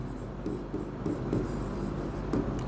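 Chalk or marker scratching out words on a classroom board during a Bengali logic lesson, a steady run of short strokes close by under room noise, with no talking.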